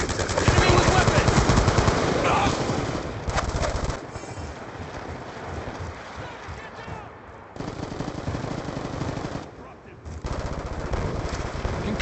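Rapid automatic gunfire in a first-person shooter game, loud dense bursts at first, then more scattered shots with brief pauses, under in-game voice callouts.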